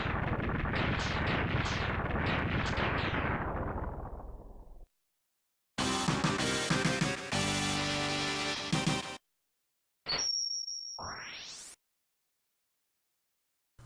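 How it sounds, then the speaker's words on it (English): Chains of rapid retro explosions from the video game Mega Man X3, loud and crackling, come in bursts separated by silence, followed by a short rising electronic sweep. "Man, these explosions take forever."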